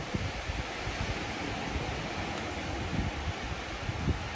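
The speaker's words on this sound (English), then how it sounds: "It is some kind of windy out here." Strong, gusty wind blows outdoors on a November day, a loud continuous roar with low buffeting thumps against the microphone throughout, no voices.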